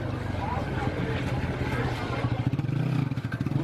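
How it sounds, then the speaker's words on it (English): Motorbike engines rumbling nearby, puttering and revving as they pass along a street, loud and steady with a low throbbing pulse. "Freaking motorbikes going up and down."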